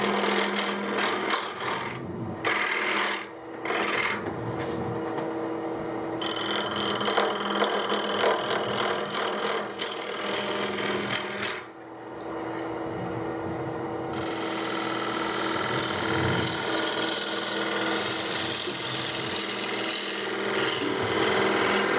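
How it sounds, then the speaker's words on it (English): A bevel is ground all the way around a carved wooden winged vessel, giving a continuous loud abrasive rasping that runs almost without pause and shifts in intensity. "grinding the bevel all the way around, so it won't cut any further."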